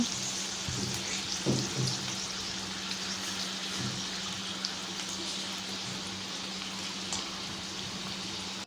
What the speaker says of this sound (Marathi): मस्त क्रिस्पी अशी तळून घ्यायची आहे भेंडी आपली